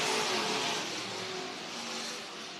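Race cars roaring flat out in a drag race off turn four on a dirt speedway track, a loud, sustained engine blare holding steady with a slight fade toward the end.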